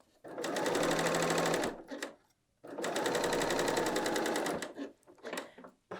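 BERNINA L 890 sewing machine stitching seams on a woven top, two steady bursts of fast, close mechanical whirring separated by a brief pause, then short softer runs at the end.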